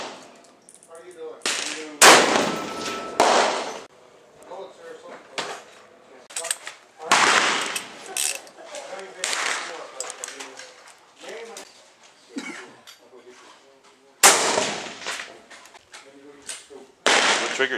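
Shots from a .308 rifle fitted with a Surefire Mini suppressor ring out at an outdoor range, several sharp loud reports spaced irregularly, with people talking between them.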